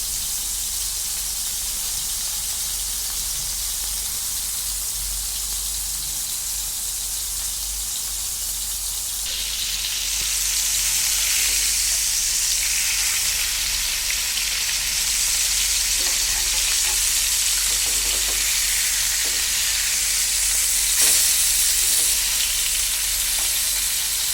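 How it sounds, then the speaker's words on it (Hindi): Chapli kababs made from raw minced meat fry in a hot pan, giving a steady, dense sizzle and hiss that holds for the whole stretch and grows slightly louder partway through, with a few soft pops. "पहले एक साइड से अच्छे से फ्राई होने दें, उसके बाद ही फ्लिप करें"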